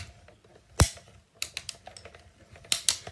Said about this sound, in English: The crunching and cracking noises are normal. It's cutting through the paper.